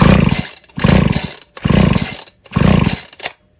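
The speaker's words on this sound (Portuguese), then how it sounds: "eu vou acionar o afogador e vou puxar o cordão para ele vir gasolina." Four rapid pulls of a chainsaw starter cord with the choke engaged, each a loud rasping burst of about half a second separated by brief pauses, close up and without talk.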